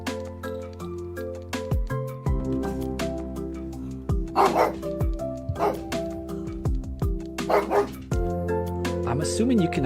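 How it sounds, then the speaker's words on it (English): A dog named Daruk barks in repeated sharp bursts and yips, with some whimpering, while someone talks continuously over game music. "So yeah, he's barking again."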